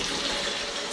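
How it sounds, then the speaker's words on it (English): Tap water runs steadily into an ordinary cooking pan as water is added for boiling rice, a close, continuous splashing gush with no pauses and no talk. "We're gonna want to add some water into that."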